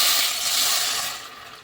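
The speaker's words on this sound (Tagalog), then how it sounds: "ilalagay ko naman yung tubig." Water pours into a cooking pot holding onions, salt and pepper for a Filipino vegetable soup, a steady close rushing splash that fades toward the end.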